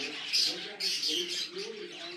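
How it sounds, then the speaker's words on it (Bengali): A pair of Gouldian finches at a bird farm in Barishal chirps in quick, high tweets, with other caged birds faintly calling nearby. "এখানে আছে একজোড়া গোল্ডিয়ান ফিঞ্চ।"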